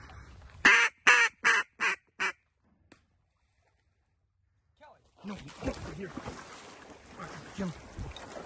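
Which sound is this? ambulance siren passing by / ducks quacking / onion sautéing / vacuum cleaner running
ducks quacking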